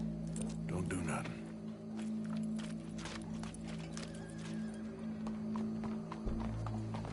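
Horse hooves clip-clop steadily in a PS4 video game, with occasional neighs over a continuous game soundscape; voices talk during it.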